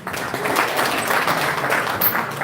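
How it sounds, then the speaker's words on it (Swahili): An audience at the Gusii Creative Awards 2020 applauds a Senator: a dense, continuous wash of clapping from a crowd that holds steady for a couple of seconds. "Wapi makofi ya Senator."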